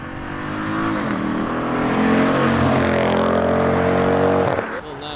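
A Porsche 911 leaving a car meet accelerates hard, its engine rising loud and close through the revs before it cuts off sharply near the end.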